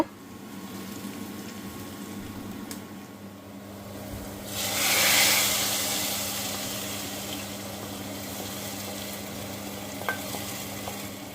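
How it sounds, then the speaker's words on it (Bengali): Chopped garlic and onion fry in hot oil for a beef haleem tempering, a low steady sizzle that flares into a brighter, louder hiss midway as the pan is stirred, with a few faint utensil taps. "আমি একটা ফ্রাইং প্যানে বাগার দিব হালিমের জন্য তো তেল নিয়ে নিয়েছি রসুন কুচি পেঁয়াজ কুচি"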